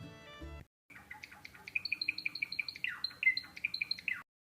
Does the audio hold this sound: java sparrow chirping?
yes